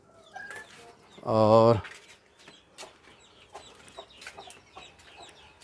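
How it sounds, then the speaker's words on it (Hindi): English breed chickens cluck near at hand, with one loud, harsh squawk standing out among softer intermittent clucks and bird calls, and a voice speaks briefly. "ये हमारे इंग्लिश बर्ड्स आ गए"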